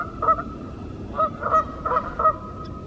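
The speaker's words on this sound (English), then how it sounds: "See, the geese are still here. They're by the dam." Geese honking by a dam at the edge of a lake in a forest, a series of loud nasal calls in small clusters, some overlapping, over a quiet outdoor background.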